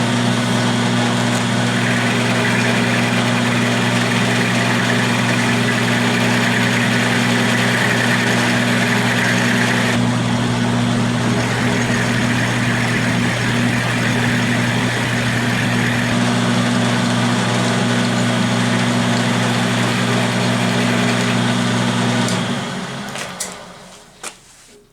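Metal lathe on an Atlas machine squaring up and cutting metal stock to size, a steady loud motor hum with a continuous cutting whine that runs unbroken for over twenty seconds, then winds down and stops near the end.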